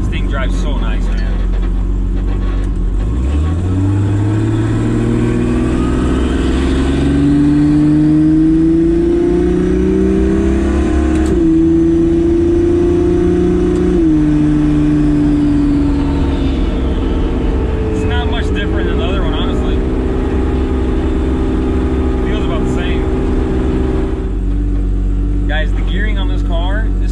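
A turbocharged Toyota Supra engine revs up through rising pitch sweeps, loud and close, shifting and climbing again, with a turbo whine over the roar.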